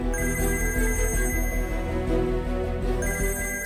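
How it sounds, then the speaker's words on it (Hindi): A telephone rings in an indoor drama scene, a steady repeating electronic ring tone over a musical background, loud and continuous with no talk over it. "जल्दी फोन उठाओ।"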